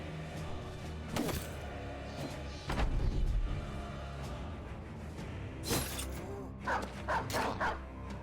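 Dogs bark in the video game Battle Brothers in several short bursts mixed with combat clatter and thuds during a battle, with a voice faintly present.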